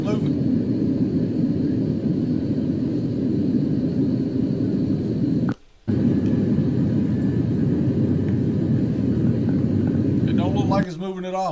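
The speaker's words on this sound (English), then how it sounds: "Recorded in flight while landing." Cabin of an airplane in flight during landing: a loud, steady low engine drone fills the space, broken by a brief drop-out partway through and a shift in tone near the end.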